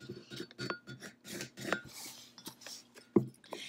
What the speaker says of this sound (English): I'm just gonna scrape it down real good. Try not to mess up the vinyl underneath.